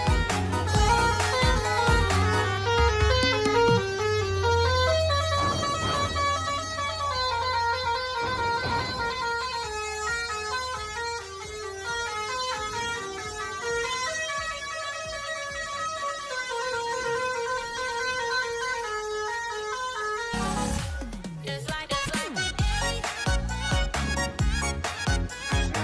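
Two intercity coaches, Medan Jaya and Lantra Jaya, sound long musical multi-tone horns at Merak ferry port in Indonesia, the melodic honking running loud and near for most of the stretch before engine rumble takes over.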